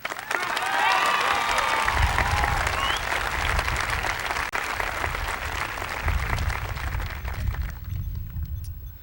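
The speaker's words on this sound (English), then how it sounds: "Everyone, please give a round of applause for Mark Aronson." A large crowd at a high school graduation ceremony breaks into sustained applause with cheers and whoops, a loud, full wash of clapping and shouting voices that holds for several seconds before thinning toward the end.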